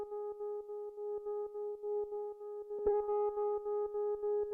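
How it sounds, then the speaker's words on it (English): A steady electric piano tone with pulsing tremolo and overdrive distortion throbs in even rhythmic waves, with a fresh note struck partway through, played alone in a beatmaking setup. "it's passed into a distortion of the type overdrive"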